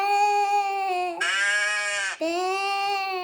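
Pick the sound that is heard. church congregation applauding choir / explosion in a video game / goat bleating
goat bleating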